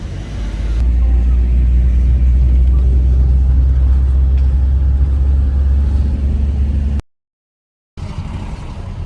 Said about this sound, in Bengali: তো গাইস আমরা গাড়ি করে বার হয়ে গেছি